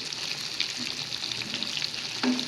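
Fish pieces seasoned with Shan masala sizzle steadily as they fry in hot oil in a Pakistani home kitchen, a continuous close crackle with small pops and a brief stir or turn near the end.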